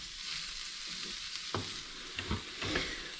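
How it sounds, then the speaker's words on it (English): Mushrooms and onions roasting in a pan give a low, steady sizzle with a few soft stirring knocks and scrapes, close and fairly quiet. "nicely roasting in the pan with the onions"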